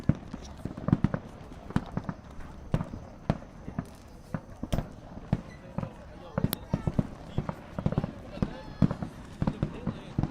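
Fireworks burst nearby during an outdoor UPSL Premier soccer match, a rapid irregular string of loud sharp bangs and crackles, with a commentator speaking over them.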